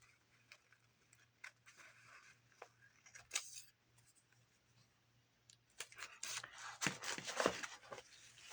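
Scissors trim vintage paper glued into a journal, giving soft, quiet snips and rustling paper handling that come in irregular bursts and grow busier toward the end.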